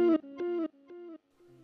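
Reverse echo effect from a Valeton GP-200LT guitar processor on a single guitar note, repeating in about four swelling echoes that fade in strength, clean and isolated.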